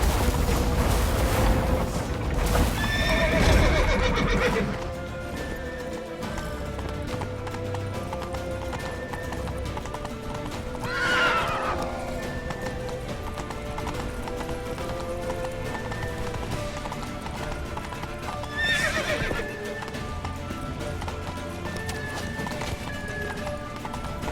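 Horse hooves clip-clop at a steady gallop through a long stretch in The Witcher 3: Wild Hunt, with a couple of brief neighs rising above the hoofbeats and rumbling background noise.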